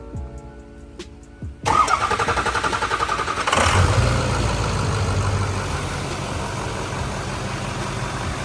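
A pickup truck engine cranks over after a dual battery install, catching with a loud burst and settling into a steady, rumbling idle that runs to the end, with no talking.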